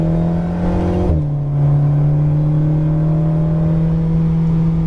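Alpine sports car on a racetrack, its engine droning steadily and loud with a brief dip in pitch near the start before settling into a sustained high-rev hum.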